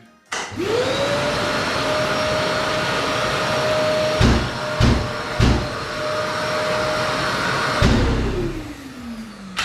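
A loud Bosch GAS 35 M AFC industrial vacuum cleaner whirs up to a steady, high whine, with a few sharp knocks midway from its automatic filter cleaning, then spins down at the end.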